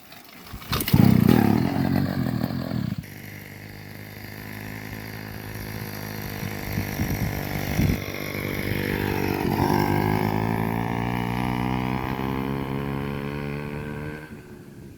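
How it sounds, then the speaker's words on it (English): A motor with its muffler fitted is cold-started: a sharp burst of cranking and catching, then a steady, fairly loud idle that rises slightly and holds for the rest of the clip, with no talk. "So this is a cold start with the muffler on."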